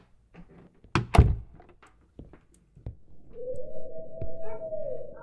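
In a horror video game, a door bangs shut with a heavy, close thunk and a short rattle, followed by scattered small knocks and then a sustained low eerie hum.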